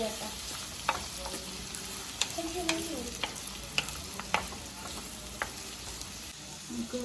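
Garlic, ginger, green chili and curry leaves sizzle in hot oil in a pan for a prawn roast, a steady crackling hiss broken by sharp clicks and scrapes of a spoon stirring, close and moderately loud with no talking.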